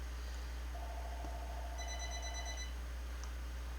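A telephone rings indoors with an incoming telemarketer call, giving one electronic ring of two tones in quick succession. It sounds moderately near against a steady low hum.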